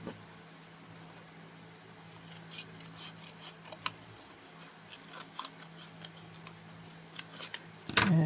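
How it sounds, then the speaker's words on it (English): Scissors cutting a decorative fabric piece in half for a sewing journal, soft close snips and rustling paper-like crunches building toward a louder final cut. "So I might just cut that in half."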